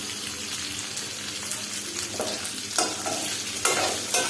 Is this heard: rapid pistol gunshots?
no